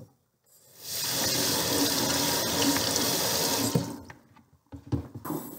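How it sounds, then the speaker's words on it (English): A kitchen faucet runs into a sink to rinse produce, a steady hissing stream that starts after a brief silence, holds for about three seconds, then cuts off, leaving a few soft clunks and drips. "so we will just use running water."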